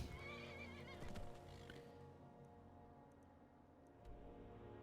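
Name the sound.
horse neighing in a video game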